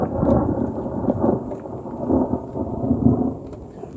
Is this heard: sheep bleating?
no